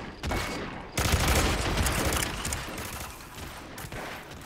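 Gunshots in the video game Hitman Absolution, a close burst of rapid, loud shots crackling for a few seconds after a brief opening report, then trailing off.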